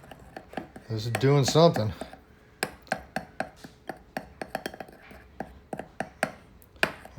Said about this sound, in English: Mix this all up, kind of dissolve that baking soda.